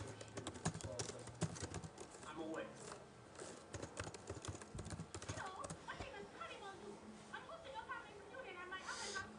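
Fingers tap out a song name on a computer keyboard in quick, uneven clusters of clicks, with someone talking over the typing throughout.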